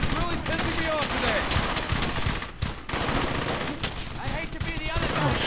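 Gunfire in a crossfire in the World War II shooter Brothers in Arms: Hell's Highway, rapid machine-gun bursts and rifle shots overlapping densely and loudly throughout, with shouted voices mixed in.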